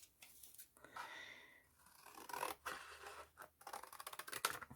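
Scissors snip through an alcohol ink card in a quiet room, a run of short crisp cuts and paper rustles building toward the end, close and fairly soft.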